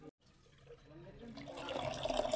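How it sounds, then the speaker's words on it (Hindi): Water poured into a traditional desi water heater, a soft trickling and filling sound that grows steadily louder over a couple of seconds, close by and alone. "मामड़ा ये यहाँ से पानी डालता है और इधर से गरम गरम निकलता है इसमें से।"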